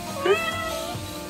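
A single short kitten meow on the Everest Base Camp trek, high and thin, sounding close against a quiet outdoor background.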